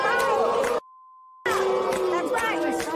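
A studio audience on a talk show cheers and shouts loudly, with excited voices rising over the noise, before a steady censor bleep cuts in briefly and the crowd noise resumes.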